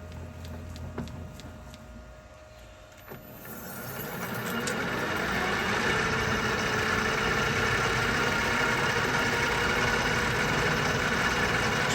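Machine cutting a thread on a hydraulic press part starts up and settles into a steady, loud mechanical drone with a grinding hiss that holds continuously to the end.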